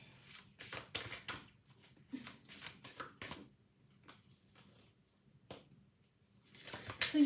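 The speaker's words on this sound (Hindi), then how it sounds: "सो और कुछ मुझे आपके लिए कार्ड्स निकालने हैं, let me pick them up" Tarot cards being picked up and shuffled by hand, heard as a string of close, crisp riffling bursts with short quiet gaps between them, then a final flurry.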